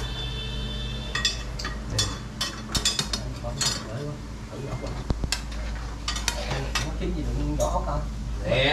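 Pan and plates clatter and clink while food is served out in a Vietnamese kitchen or outdoor cooking spot, with scattered dish knocks and scraping over a steady low hum, people talking nearby throughout.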